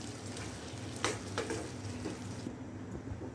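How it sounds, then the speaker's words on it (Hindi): Onions and bell peppers cook in a pan for a Chicken Manchurian, giving a steady, close sizzle and frying hiss throughout, with a few faint stirring scrapes. "अब इसको हम 1 से 2 मिनट के लिए पका लेते हैं ताकि इसमें जो प्याज है और शिमला मिर्च है वो भी पक जाए"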